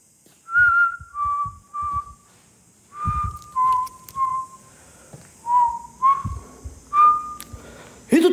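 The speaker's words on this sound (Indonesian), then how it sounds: "Malah ngikutin suara siulan gua." A person whistles a short tune in a hotel room, a run of clear sustained notes in separate phrases with brief pauses, close and fairly loud, with faint knocks and rustles between.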